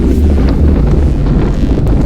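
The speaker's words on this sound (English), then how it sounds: "But it's windy, gusty." Gusty wind roars across the microphone during a group bicycle ride on the road, a heavy low rumble that buffets constantly and drowns out other sound.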